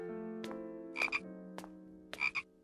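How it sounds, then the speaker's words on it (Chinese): Frogs croak in a bamboo basket, giving several loud close croaks in an uneven rhythm: sharp single calls alternating with doubled, throaty bursts over a low sustained hum. "你竹筐里装的是青蛙吗？"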